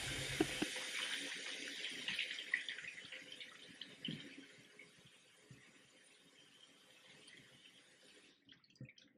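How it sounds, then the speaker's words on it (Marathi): Tap water runs as fresh coriander is washed under the faucet in a kitchen sink, a faint steady splashing with small drips and clinks that stops near the end. "स्टेप वन, कोथिंबीर चांगली धुवून घ्यायची."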